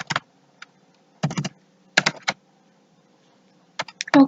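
Short bursts of keystrokes on a computer keyboard while typing a form title in Google Forms, close and crisp, separated by brief pauses, with no talking.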